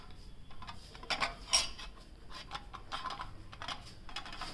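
Tea cups and dishes clink and clatter in a quick, irregular string of light taps and knocks, close by and moderately loud, without any talk.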